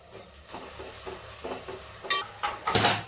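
Onion and tomato fry in a pan, a soft sizzle under scraping and stirring strokes, with louder clattering spoon hits near the end; quiet and close, with no talking.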